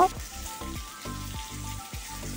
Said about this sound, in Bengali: হাফ সেদ্ধ করেছি আর হাফ এখন ভেজে নেব